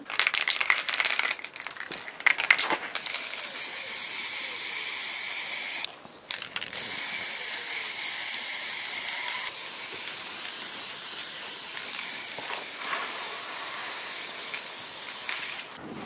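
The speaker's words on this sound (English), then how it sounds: "you just need to spray paint it with the primer." Primer sprayed from an aerosol can outdoors onto a cut-out triangle shape, producing close, loud steady hissing bursts with brief pauses and some rattling at the start.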